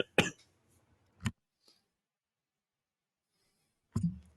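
Harsh coughs and throat clearing in short bursts, a sharp pair at the start, another a second later, then a rougher cough after a long quiet gap, close and dry with no talking.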